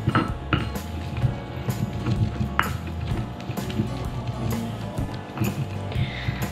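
A stone pestle pounds and scrapes fried sambal ingredients in a mortar, a series of close, irregular knocks and grinding scrapes with a faint voice in the background.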